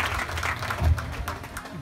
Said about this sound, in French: je vous demande de les applaudir également